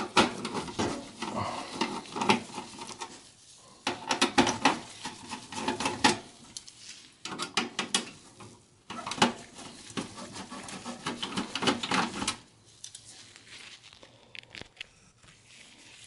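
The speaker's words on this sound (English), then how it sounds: "we're gonna start removing the motherboard. To do that, they're gonna be 1, 2, 3, 4, 5, 6, 7, 8, total 8 screws we have to remove" Screws being removed from a Dell Optiplex 7040 motherboard, with scattered close metallic scrapes, clicks and rattles in irregular bursts separated by brief quiet gaps.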